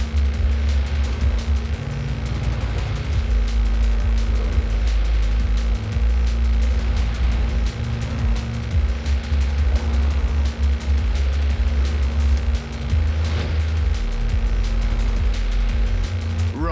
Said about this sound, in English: That's a new tractor speed record and some impressively fast farming.